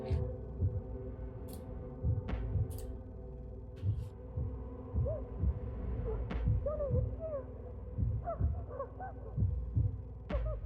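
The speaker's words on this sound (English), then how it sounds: "Can't hear nothing but her heartbeat." A heavy, low heartbeat thumps in slow, regular double pulses inside the vampire video game Vampyr, loud and close over a droning hum, with faint distant goose-like honks and occasional sharp clicks.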